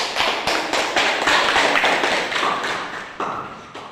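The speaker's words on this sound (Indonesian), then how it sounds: "Tepuk tangan untuk semuanya" A classroom of students claps together in a few loose, rhythmic bursts, close and fairly loud, with no talking over it.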